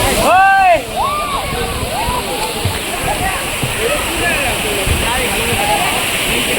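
A waterfall at Pali roars with a steady, dense rush of falling water close by, while people chatter and call out loudly over the constant wash.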